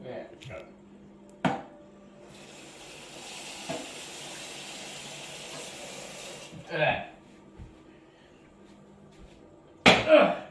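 Tap water pours into a pot of potatoes at a home kitchen sink, a steady hiss lasting several seconds, framed by clattering pots and a few sharp knocks.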